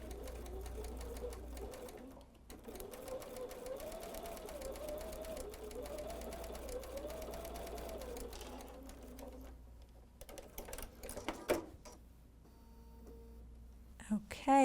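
A sewing machine pieces fabric with 50-weight cotton thread, running steadily close by for several seconds with a rhythmic whir, then stopping amid softer handling sounds, and a voice speaks in the background.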